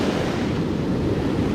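Surf on the Oregon coast, a steady dense roar of waves washing onto the beach with wind rushing across the microphone, continuous and close, no talking.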